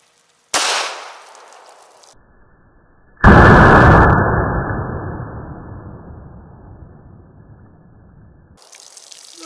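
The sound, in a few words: 124 grain bullet gunshot into green water jug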